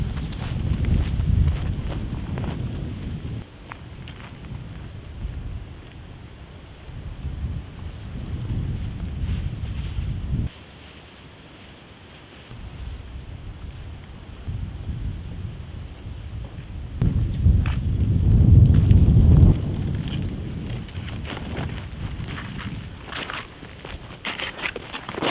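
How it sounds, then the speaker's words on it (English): Fast, cold wind roars outdoors at Land Between the Lakes, buffeting the microphone in heavy low gusts that rise and fall over about 25 seconds, with one short lull. "That wind is fast and it is cold."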